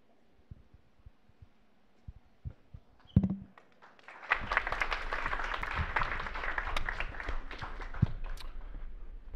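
Audience applause for startup founders at an Israeli energy tech showcase, beginning after a few seconds of scattered taps and a brief thump, then a sustained, dense round of clapping filling the room until the end.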